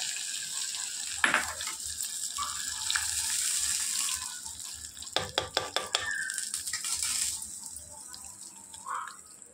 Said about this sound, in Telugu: ఇప్పుడు ఈ పోపుని ఈ పుదీనా చట్నీలో వేసుకోవాలి